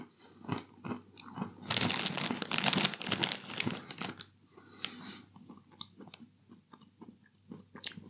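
Crinkling and crunching as Tesco salted caramel toffee popcorn party mix is handled and chewed up close, with a long burst of bag rustling in the middle and scattered crunchy bites around it.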